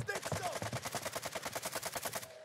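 Rapid automatic gunfire in Warzone 2, a fast, even burst of about two dozen shots lasting a couple of seconds, fairly faint and steady.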